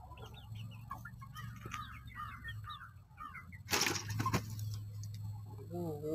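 A small backyard rooster that stopped growing, with soft clucking and chirpy calls in the background, a louder burst partway through, and a low steady hum underneath; a person talks briefly.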